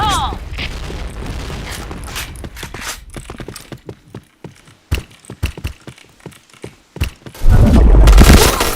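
In the online shooter Point Blank, a thrown grenade goes off with a heavy boom amid a scattered burst of sharp gunshots and impacts, ending in a loud rumbling blast, with players chattering over it.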